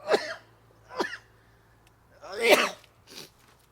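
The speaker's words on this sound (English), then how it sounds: "I sneeze." A few short, sharp bursts from a nearby person, one louder explosive sneeze-like outburst in the middle, with no talking.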